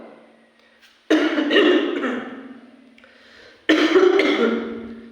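Two harsh coughs from a person with a cold, a few seconds apart, close to the microphone with quiet breathing between them.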